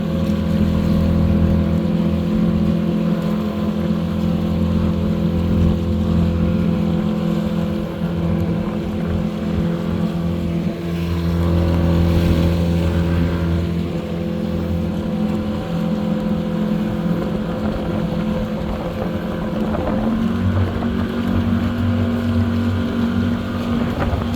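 A motorboat engine drones steadily and loudly for the whole stretch on open water off a Philippine beach, a constant low hum with wind buffeting the microphone and no talking.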